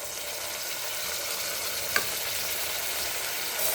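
Cluster beans and toor dal are stirred together in a pan, giving a steady, close frying hiss with a single brief scrape partway through.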